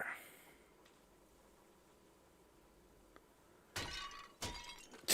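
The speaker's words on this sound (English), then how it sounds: "I do like the glass breaking sound." Glass shattering in a video game about taking apart furniture: after a long quiet stretch, two sharp, bright breaking bursts arrive close together near the end, loud and up front.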